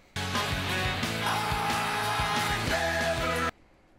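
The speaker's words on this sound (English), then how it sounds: "what is that scream, man, that he does right before the chorus?" A singer's scream right before the chorus of a song, a loud sustained cry riding over dense music with a steady beat for about three and a half seconds before cutting off abruptly.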